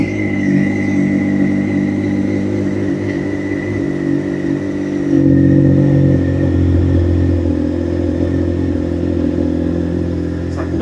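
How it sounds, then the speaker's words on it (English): A motorbike engine runs loudly indoors in a garage, a steady rumbling idle with a slight swell in the revs midway, close and continuous throughout. "I'll start the bike up and we'll see what it sounds like."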